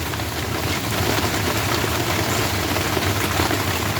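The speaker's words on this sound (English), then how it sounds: "Thought I'd let you guys hang out, listen to the rain" Rain falls steadily outdoors, a dense, even hiss and patter filling the whole scene up close, with a faint low rumble underneath and no voices.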